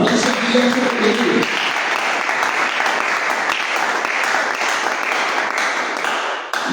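An audience at an evening church service applauds and cheers together, a steady, dense wash of clapping that stays loud throughout, with a brief tonal voice or cheer near the start.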